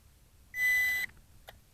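An Ameta S20 Lite brushless beginner drone gives a single clear electronic beep after gyro calibration, about half a second long, followed by a faint brief chirp in a quiet room.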